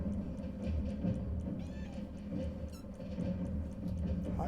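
A house cat giving a couple of brief, high meows over a steady low background hum, close to the microphone, with no talking.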